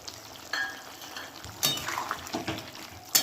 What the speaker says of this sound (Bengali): এবার এতে দিয়ে দেবো ভেজে রাখা মাছগুলো, আর বড়ি, ভেজে রাখা বড়িটা।